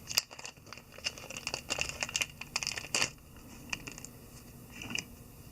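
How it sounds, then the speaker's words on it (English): Small 3mm flat tape eyes are creased onto a rabbit-tailed surf candy fly at the tying bench, making close, faint crinkling and ticking sounds in quick irregular bursts. "I always crease the eyes so that they sort of hug the shape of the fly rather than sitting up"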